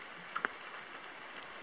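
Rain falls steadily in a forest in Fundy National Park near Foster Brook, a soft, even hiss close by, with a few faint drips and taps.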